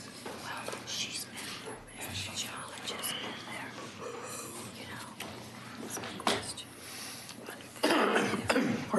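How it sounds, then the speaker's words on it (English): Two sharp, rough coughs sound close by in a quiet room, with faint murmuring and soft rustling in the background. "Pardon my cough."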